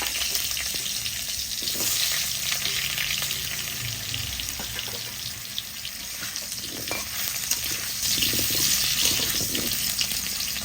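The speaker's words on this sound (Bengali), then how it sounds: "তাই আলুটা আগে ভেজে নেব" Potatoes frying in oil in a pan give a continuous hissing sizzle close up, with occasional soft stirring scrapes and no voices.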